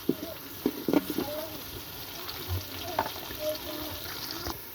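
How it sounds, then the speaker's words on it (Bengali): Chopped onions frying in oil over a clay stove, a soft sizzle broken by scraping stirs and clinks of a spoon against the pan, with faint voices in the background. "এখন আমি পেঁয়াজটাকে ভালো করে নেড়ে চেড়ে"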